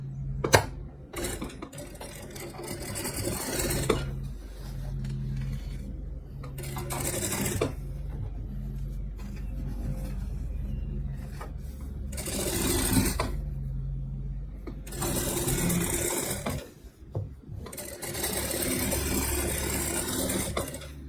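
A sewing machine stitches a seam on a patchwork tote bag, running in bursts of steady mechanical whirring with short pauses and occasional clicks as the fabric is repositioned, close and clear with no talking.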